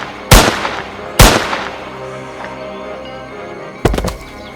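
Gunshots fired into the air: two loud, close, sharp cracks about a second apart, each trailing off into a ringing decay, then a tight cluster of rapid bangs after a pause near the end. No one speaks.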